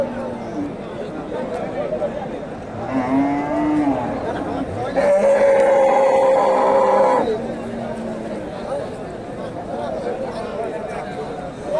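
Cattle moo repeatedly at a busy cattle market selling medium-sized Friesian cows, several loud bellowing calls rising over a steady murmur of crowd chatter and voices.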